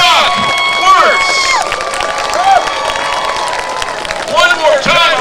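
A crowd at a Pleasant Grove vs North Lamar game cheers and applauds a Good Samaritan Award winner: sustained loud roar with whistles and shouts, plus an amplified announcer voice over the noise.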